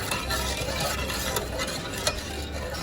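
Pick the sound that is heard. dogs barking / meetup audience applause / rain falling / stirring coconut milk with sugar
stirring coconut milk with sugar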